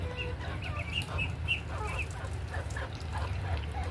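Several desi (native) chickens clucking and chirping close by in quick, irregular bursts over a low steady background hum.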